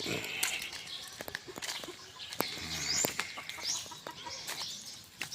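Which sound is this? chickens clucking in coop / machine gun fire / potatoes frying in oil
chickens clucking in coop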